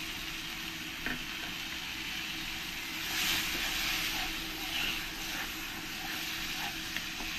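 Tomato paste fries with spices in hot oil for a deshi chicken curry with potatoes, a steady close sizzle and hiss with a few faint stirring clinks, no talk.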